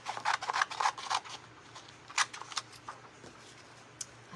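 Scissors snip through sublimation paper in a quick run of close, crisp cuts, pausing, then a few more scattered snips at a quiet level with no talking.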